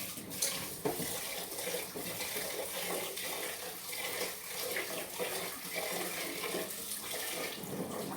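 Rice being washed under running tap water at home, a loud continuous splashing rush with grainy swishing all the way through.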